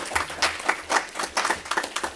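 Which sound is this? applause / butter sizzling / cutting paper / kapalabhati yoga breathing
applause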